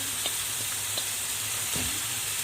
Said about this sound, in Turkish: Daha sonra kıymamızı da soğanla birlikte kavuruyorum